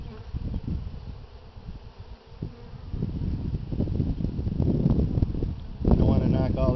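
Honey bees buzzing around an open hive during a spring inspection, a dense continuous drone that swells louder toward the end, mixed with handling noises and some wind.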